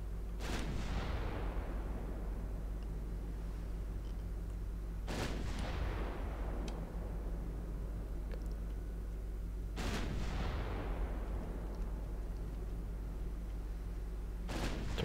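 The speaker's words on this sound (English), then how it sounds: "Torpedo detonation." Three heavy torpedo detonations in the naval combat game Ultimate Admiral Dreadnoughts, each a loud booming impact that rolls off into a long rumbling decay, spaced about five seconds apart over a steady low drone.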